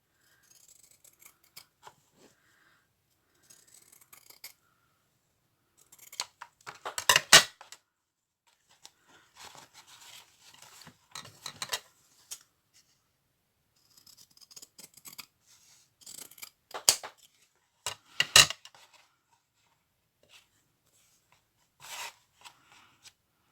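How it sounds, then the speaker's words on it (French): Scissors snip through material for a small strip of a gusseted pouch, in several bursts of crisp close cutting with short pauses between, alone without talk. "on va venir découper une petite bande pour mettre sur le derrière"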